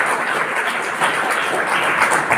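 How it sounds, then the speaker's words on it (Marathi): A crowd applauding at a closing ceremony of an NSS camp at a government industrial training institute, with brief, steady, moderately loud clapping throughout. "त्या सर्वांचा टाळ्या वाजवून आपण अभिनंदन करूया"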